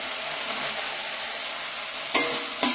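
Fried eggs and peas are sautéed in a spice paste, giving a steady close sizzle with two sharp scraping stirs near the end and no talking.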